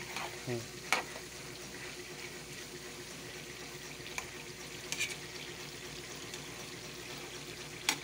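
Peanuts are stirred in a hot stainless steel pan: quiet, scattered scrapes and rattles over a faint, steady sizzle, with a few sharper clicks as the spoon hits the metal.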